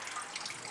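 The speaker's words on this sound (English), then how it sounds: "That's just going to run straight out the sides and out of the top" Extra water drains from a homemade sawdust-and-paper log press, a steady close trickle and splash over less than a second with no voices.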